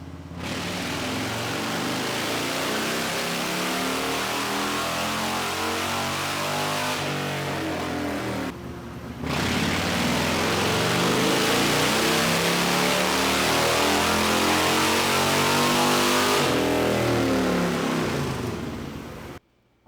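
A motorcycle engine revs hard on a dyno, a loud sustained climbing roar whose pitch sweeps upward, briefly cutting out and then pulling again for a long second run before dropping away.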